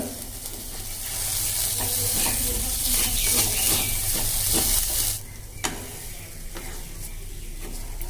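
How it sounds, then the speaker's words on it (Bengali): Green pea filling stirred in a pan until dry, a loud hissing sizzle with steady scraping that drops suddenly to a quieter sizzle with occasional spatula knocks, close up, no talking. "এভাবে আমরা একটু নেড়ে নেব নেড়ে শুকিয়ে যাওয়া অবধি আমরা ভালো করে এটা"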